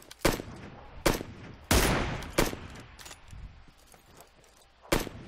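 Gunfire in the video game PUBG Lite: several loud, sharp shots spaced irregularly, one longer burst with a trailing decay, close and dominant with no voices.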